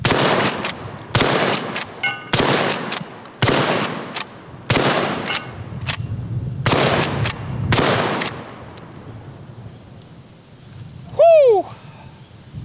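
Tactical lever-action 12 gauge shotgun firing outdoors at steel targets: a run of about eight loud, booming shots roughly a second apart, each trailing into rumble, followed by quieter handling noise and a ringing steel ping.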